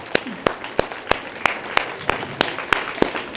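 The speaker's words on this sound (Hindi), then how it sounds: "हल्की पड़ गई ताली।" An audience claps at a yoga workshop event held at a school, with sharp regular claps repeating about three times a second over a steady crowd patter, moderately loud and close.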